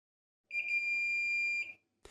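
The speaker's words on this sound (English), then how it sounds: "If you got the beeping mode on your multimeter, you simply measure with the probes on your cable until you hear a beeping sound." A multimeter in continuity mode gives one sustained high electronic tone lasting about a second as probes touch a paired cable's wires, clear and alone, then a brief click-like noise after.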